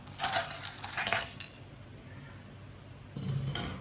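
Fried kebabs are set onto a plate, with two bursts of clinking metal and crockery, then a quiet pause and a final clatter near the end, close by and fairly soft.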